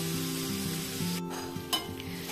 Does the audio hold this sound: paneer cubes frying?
yes